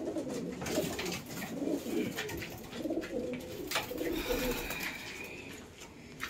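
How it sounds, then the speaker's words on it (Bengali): A pair of ringed domestic pigeons, including a male red-checker, cooing softly and repeatedly in low murmuring phrases, fairly faint against a steady background hiss. "এক জোড়া পায়রা দেখালাম আপনাদের।"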